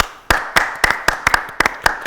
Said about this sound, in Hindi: तो मोहसिन के लिए तालियां।